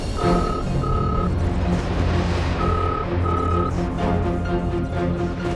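A telephone rings in repeated double bursts that keep going unanswered, over a dense, noisy background of music and bustle.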